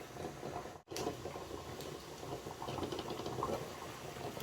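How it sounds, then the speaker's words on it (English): A pot of water at a rolling boil for one-pot jollof spaghetti gives off a steady bubbling hiss, close and continuous, with a brief dip partway through. "The water is already boiled."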